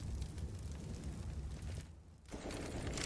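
A grenade explodes during a Counter-Strike match at IEM New York 2020, a dense roaring blast and crackle among game noise that cuts out briefly before the loud rumble returns, with no voices heard.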